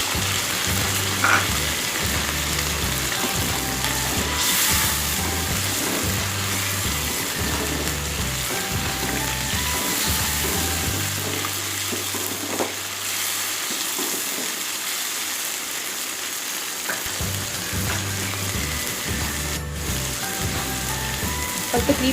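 Mutton white korma with ground spices and garam masala frying in a pot, giving a steady sizzle and crackle with occasional stirring scrapes throughout, continuous and close, without talking.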